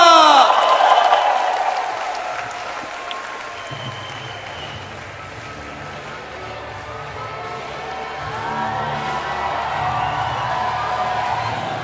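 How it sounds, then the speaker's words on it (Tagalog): A large crowd at a Philippine political rally breaks into loud, sustained applause and cheering. A voice speaks briefly at the start, then the clapping fades a little before swelling again. "Isang malakas na palakpak!"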